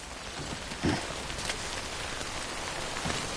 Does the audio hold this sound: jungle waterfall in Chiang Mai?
no